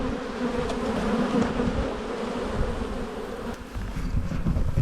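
Honeybees hum and buzz in a dense, continuous drone from an opened, smoked hive, close and fairly loud throughout.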